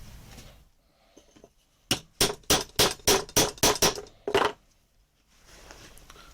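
Hammer strikes on a punch marking stitching holes in leather for a dagger sheath, nine or so crisp, evenly spaced blows in a quick run, loud and close, with quiet before and after.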